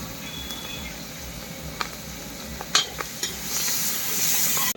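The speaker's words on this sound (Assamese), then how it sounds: "তেল গৰম হৈ গ'ল, পিঁয়াজ জলকীয়াতে আগতে ভাজি লওঁ" Chopped onion and green chilies fry in hot oil, a crackling sizzle punctuated by a few sharp utensil clinks, swelling louder near the end.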